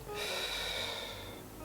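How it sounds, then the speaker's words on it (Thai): One long, forceful exhalation through the mouth and nose during a singing breath-control exercise, close and steady for over a second, with no talking. "หายใจออกครับ"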